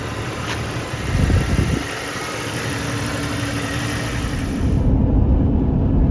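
A 1994 Jeep Cherokee Sport XJ engine drives steadily from inside the cabin, a continuous low drone with a brief surge early on and a louder, deeper push near the end.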